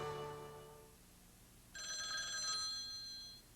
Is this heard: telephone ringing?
yes